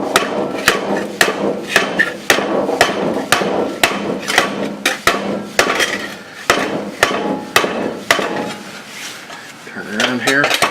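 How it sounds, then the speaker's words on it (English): Repeated sharp metallic hammer taps on copper sheet, steady and close, with brief pauses and a low hum underneath. "take it down soft with this hammer."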